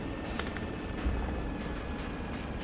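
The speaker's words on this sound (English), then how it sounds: "Was it the heli again? It seems like it's a heli." A helicopter in the combat game Arma 3 produces a steady, distant rotor drone, a low continuous hum without any distinct approach or fade.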